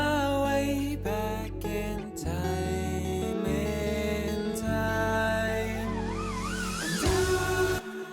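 Synthesized siren sound sweeping up and down over a full song transition, wavering pitch rising above sustained synth chords and bass, steady and fairly loud throughout.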